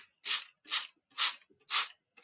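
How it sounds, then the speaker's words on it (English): A spray bottle mists water onto freshly planted seeds in four short, evenly spaced hissing squirts, close and clear with quiet gaps between them. "So, little bit of spray, little bit of water,"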